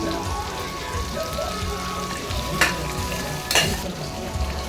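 Chopped tomatoes sizzle in hot oil with golden-browned onions for chicken biryani, a steady close frying hiss broken by two sharp scraping stirs of the spoon, with no talking.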